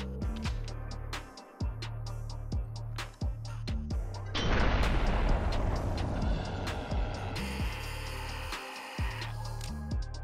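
Gunfire in the zombie survival game 7 Days to Die: scattered sharp shots and clicks over a low hum, with a dense burst of firing in the middle, then a few more isolated shots.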